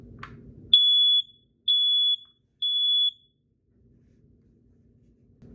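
Three loud, high-pitched electronic beeps from a First Alert 9120B ionization smoke alarm being tested, evenly spaced and each lasting about half a second, after a brief click, then quiet.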